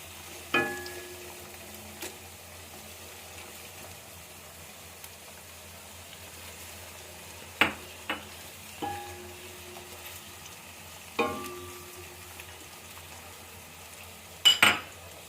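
Tomatoes fry in a pan over browned garlic and onion with a faint, steady sizzle, broken by a few sharp utensil clinks and taps on the pot.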